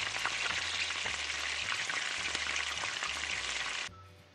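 Vermicelli-coated chicken cutlets frying in a pan of oil, producing a loud, dense crackling sizzle over a low electrical hum, close up, cutting off abruptly near the end.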